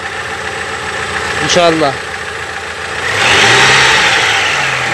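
A car engine idles steadily during a mechanical inspection before purchase, then revs up in a rising sweep and settles back; someone speaks briefly over the running engine.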